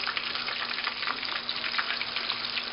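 Catfish fries in a pan with a steady, close sizzle and crackling spatter, continuous hissing throughout and no voices.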